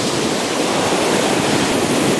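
Loud, steady surf rushing onto a Caribbean beach near a runway end, a dense continuous wash of breaking waves with some wind across the microphone and no voices.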